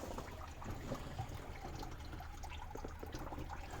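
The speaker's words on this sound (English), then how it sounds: "it's actually pulling the water up this chamber and out of the overflow" Water being drawn up through a radiator chamber and out the overflow during a cooling system flush on a Buick Gran Sport, a faint continuous gurgling trickle with small bubbling pops.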